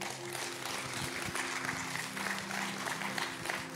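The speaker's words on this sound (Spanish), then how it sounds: "Den un fuerte aplauso al Señor" A church congregation applauds together, a sustained round of clapping heard at a moderate distance under low background sound.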